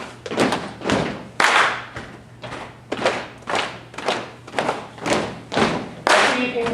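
Body percussion of feet stomping and hands clapping plays alone in a steady rhythm of about ten distinct, close, punchy hits with short gaps between them.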